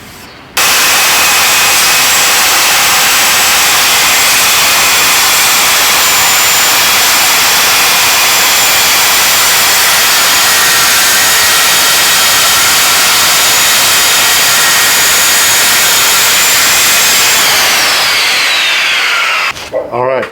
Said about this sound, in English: So I'm resorted to using the circular saw.